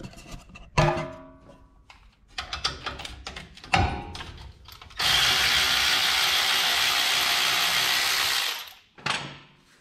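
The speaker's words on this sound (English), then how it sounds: "There's also a 12mm on that brake caliper line. Got to undo that as well." A hand ratchet loosens a 12mm bolt on the brake caliper line of a Toyota Hilux KUN26 during ball joint work, giving short bursts of clicking pawl strokes, then a louder continuous rattling run of several seconds, close by.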